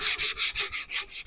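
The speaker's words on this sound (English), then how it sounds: "while I'm sanding I can get that crusty edge that builds up from the paint" Sandpaper rubs back and forth along the crusty painted edge of a wooden drawer where paint built up against tape, in about seven steady, close, scratchy strokes with no voices.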